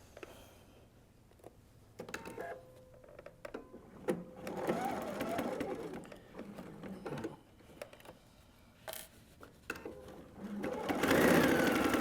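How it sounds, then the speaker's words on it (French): A sewing machine stitches along a garment piece in several bursts, a rapid whirring rattle that starts and stops, with quiet handling between runs and a longer, louder run at the end. "je vais venir me placer comme ça et je vais coudre"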